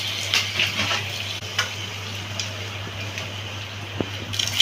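Dry red chilli and a bay leaf sizzle in hot oil in a pan, a steady crackling hiss with scattered pops and a low hum underneath.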